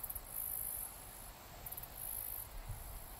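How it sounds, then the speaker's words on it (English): Crickets chirping outdoors in a natural setting, a continuous high, shrill trill pulsing in long bursts with short gaps, fairly faint over a low background rumble. "I can hear the crickets chirping"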